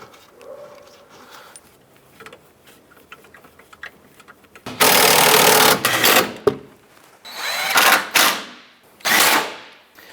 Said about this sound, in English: I'm going to get this bolt in here, thread it in, snug it down as far as you can